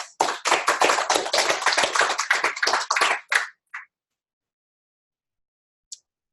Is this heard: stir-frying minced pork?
no